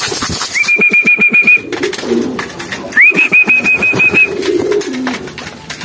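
Pigeons coo close by in low, repeated throaty pulses, while a higher sustained whistle-like tone rises twice over them.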